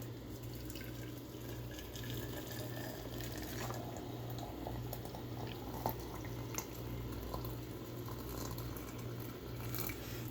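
Hot water from a kettle poured into a teapot, a steady close liquid stream with splashing and trickling that runs throughout without talk.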